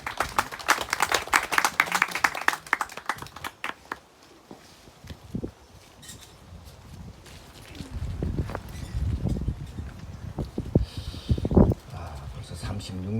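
Crowd applause at a 2024 joint memorial ceremony for workers killed in industrial accidents, as a speaker walks to the stage. Dense, lively clapping fills the first few seconds, then thins out into scattered sounds and voices.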